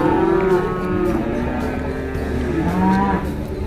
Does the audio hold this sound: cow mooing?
yes